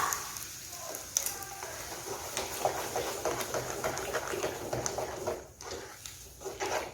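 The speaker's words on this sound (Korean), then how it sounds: "토마토 소스와 스파게티 면이 충분히 어우러질 수 있도록 볶아주도록 합니다" Spaghetti being stir-fried with tomato seafood sauce in a pan, with a soft crackling sizzle, intermittent stirring scrapes and a brief lull before the frying resumes, fairly quiet overall.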